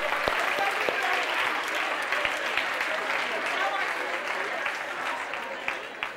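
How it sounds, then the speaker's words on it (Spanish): Conference audience applause during a talk on rhythm, body and movement in teaching, a fairly quiet, even wash of many hands clapping with a few sharper claps standing out. "Un aplauso, a la derecha muy bien"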